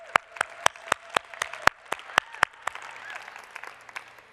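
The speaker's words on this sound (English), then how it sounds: "let's give them a round of applause as they come" Applause from an audience at a women's conference awards show, a thin ragged spatter of separate claps at moderate distance, steady for a few seconds before thinning out.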